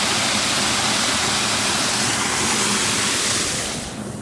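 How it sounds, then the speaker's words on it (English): A brook runs along Tannery Brook Trail, its water rushing in a steady, close hiss that holds evenly before easing slightly at the end, with no voices. "You can see the water running there."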